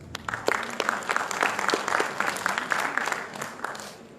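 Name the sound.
audience applause at a conference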